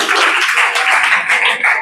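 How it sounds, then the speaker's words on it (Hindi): An audience at a school math quiz competition breaks into applause, a dense wash of many hands clapping together that holds steady for about two seconds and then fades. "जोरदार तालियां।"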